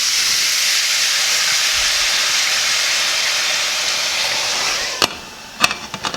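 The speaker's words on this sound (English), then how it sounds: "So you're just letting it steam in there" White wine poured into a hot pan with butter and garlic on high heat gives a loud, steady steaming hiss, which settles toward the end and gives way to a few sharp clinks.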